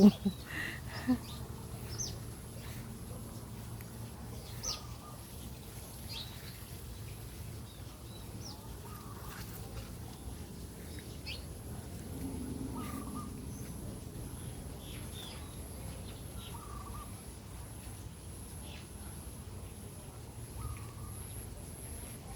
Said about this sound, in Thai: ได้ยินเสียงนกร้องนะคะ แต่ไม่รู้ว่าอยู่ตรงไหนพยายามหาอยู่